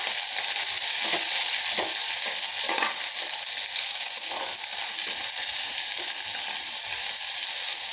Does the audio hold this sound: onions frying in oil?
yes